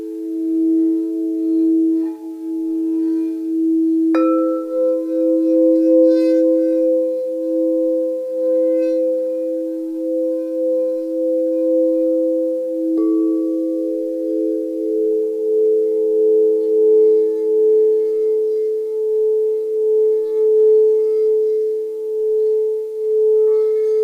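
Crystal singing bowls tuned to 432 Hz ring in long, steady, pure sustained tones, with a new bowl struck a few times so fresh tones layer over the humming drone, loud and alone.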